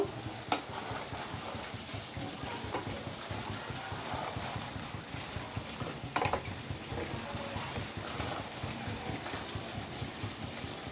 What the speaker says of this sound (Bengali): ভালো করে নাড়িয়ে আরও একটু হতে দেবো।